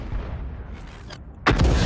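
A tank gun fires in a World of Tanks tier 8 battle, a single loud, sharp blast near the end that rises out of a low rumbling battle background.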